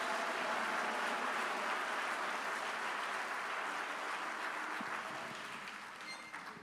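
A church congregation applauding during an archbishop's sermon, steady broad clapping that fills the room and slowly fades toward the end, with no voices over it.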